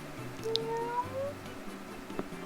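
A voice imitates a cat, drawing out a soft rising meow over a quiet, faintly humming background.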